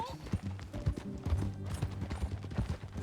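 Horse hooves clip-clop at a steady riding pace on a dirt path in the Red Dead Redemption 2 video game, rhythmic and fairly close, with brief voices and background music.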